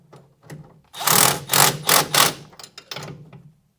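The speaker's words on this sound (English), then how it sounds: "So we'll just cinch this up here with the little gun" A small impact gun cinches a bolt on a 1964 Chrysler New Yorker in several rapid, loud rattling bursts, preceded and followed by softer clicks.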